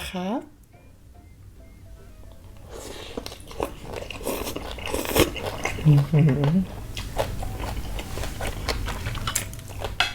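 Close, crunchy biting and chewing of crispy pork and fresh shrimp from a fiery shrimp salad, with soft mouth sounds and a voice now and then.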